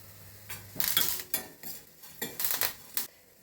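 Coriander seeds and curry leaves frying in a little oil for mango gojju, a soft sizzle under several distinct clinks and scrapes of a spoon stirring the pan, close and without talk.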